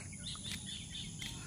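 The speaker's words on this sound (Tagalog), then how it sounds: "humuhuning mga ibon," Birds sing softly around a hillside farm on a foggy morning in the rural Philippine countryside, thin scattered calls over a steady low outdoor rumble.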